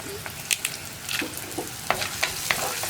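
Onion and dried red chillies sizzle in hot oil in a pan, with soft crackling pops and intermittent stirring scrapes, close and steady with no talk.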